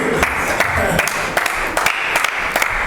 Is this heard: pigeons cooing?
no